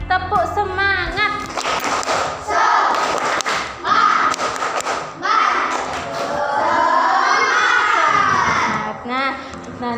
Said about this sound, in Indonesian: Supaya lebih siap lagi, coba semangat, tepuk semangat.